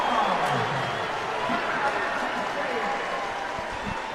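Crowd at an NC State vs Penn State college basketball game applauding and cheering, a steady roar of clapping and voices with talk over it.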